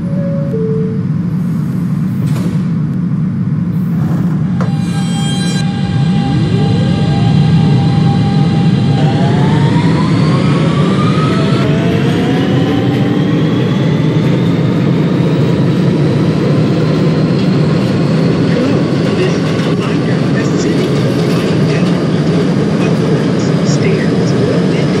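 A simulated R160B Siemens subway car on the A express along 8th Avenue runs steadily, with a loud continuous rumble under rising motor whines as the train accelerates.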